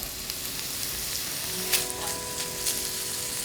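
Steady sizzling and crackling of ground pork frying in hot oil over high heat, with brief louder spits and pops, close and continuous.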